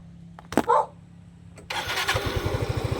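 A Yamaha Mio i 125 scooter, running poorly with weak pull, gives a sharp start-up burst and then settles into a near, uneven idle with irregular pulsing that suggests misfiring.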